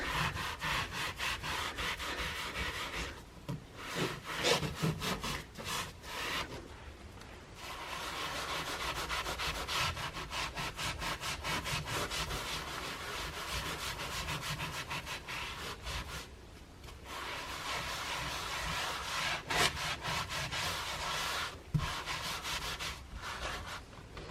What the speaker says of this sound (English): We're just going to grab a goop and we're just going to scrub it right on and see how well this works